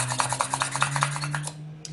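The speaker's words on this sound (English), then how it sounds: "you'll drill a hole in one of those, and then you will drill a hole into 2 holes actually into your black disc" A small pin drill bores a hole into a polymer clay disc, giving a steady close rubbing, rasping scrape with rhythmic pulses that trail off near the end, alone with no talk.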